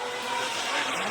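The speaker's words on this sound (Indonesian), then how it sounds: "Alasan mobil ini jadi salah satu mobil paling cepat di dunia karena mesin turbocharged V8 kembarnya" A supercar with a twin-turbocharged V8 speeds past, a loud dense roar with hissing rush filling the whole short burst.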